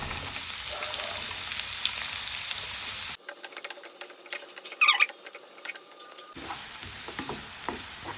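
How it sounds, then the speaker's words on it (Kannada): Finely chopped onion fries in a pan for homemade chicken fried rice, a steady close sizzle with stirring scrapes, briefly quieter in the middle. "ಈರುಳ್ಳಿ ಸಹ ಫ್ರೈ ಆಗಿದೆ."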